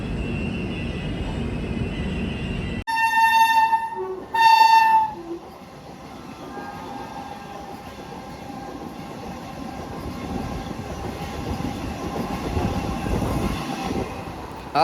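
An Indian Railways Sevagram SF Express runs during the monsoon and is overtaken by a passing train. A loud horn blast comes in two bursts, then a steady, rushing rumble of wheels and carriages continues.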